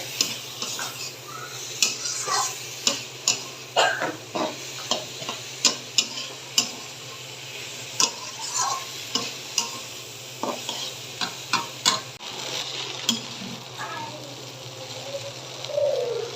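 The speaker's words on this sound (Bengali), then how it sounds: "আর এটাতে ফ্রাইড রাইসের সবজিগুলো এটা ফ্রাই হয়ে গেছে" Vegetables for fried rice stir-frying in a pan, with a spatula scraping and tapping in quick, regular strokes over a low sizzle, close and clear.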